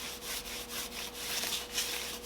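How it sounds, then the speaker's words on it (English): Frets on a handmade banjo being buffed, a steady rhythmic rubbing of back-and-forth strokes, close and moderately loud, with no voices. "Last little buffing on here"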